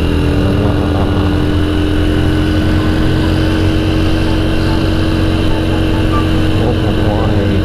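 A motorcycle engine runs loud and steady the whole time, a dense unbroken drone with no pauses, as if recorded up close while riding.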